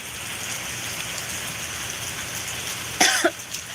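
Steady rain falls as an even, close hiss throughout, joined near the end by a brief cough-like human sound.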